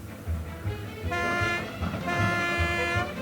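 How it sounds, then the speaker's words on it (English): A train horn sounds in two long toots over rhythmic rail clatter and rumble, fairly close and steady. "The toot of the air horn"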